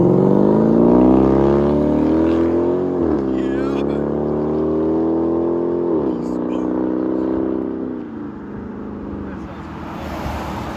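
A Dodge Durango R/T with a 5.7-litre HEMI V8 revs loudly through its aftermarket exhaust, the pitch climbing in several rising sweeps before settling back toward idle, heard up close.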